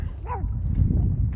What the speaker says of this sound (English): A one-eyed chihuahua, old chihuahua, is sitting here barking at me.